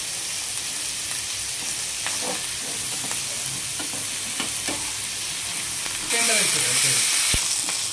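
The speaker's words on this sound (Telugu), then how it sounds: "సగం పావు ఆయిల్ పోసుకొని వేయించుకోవాలి." Fresh mint leaves fry in hot oil for pudina chutney, giving a continuous close sizzle with occasional stirring scrapes, then a sudden louder crackling burst near the end.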